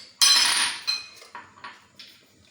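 A spoon stirring flour sauce for chicken lasagna in a metal pan, one sharp scrape followed by four lighter, evenly spaced clinks and scrapes, close and clear.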